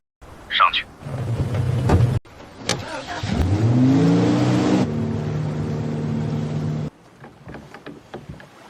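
A speedboat's engine revs hard, its pitch climbing then holding in a loud, steady drone, broken by abrupt cuts and a quieter stretch near the end.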